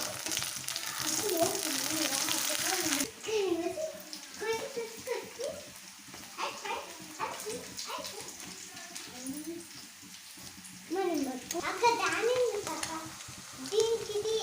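Green chilies and curry leaves fry in a pan with a steady close sizzle that carries throughout, and someone talks over it.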